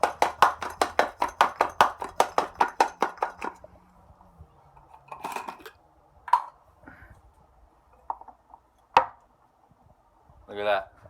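Peeled garlic cloves rattle inside an old honey mason jar in a fast run of about fifteen sharp, even shakes. After that come a few scattered knocks and clinks as the jar is set down and handled.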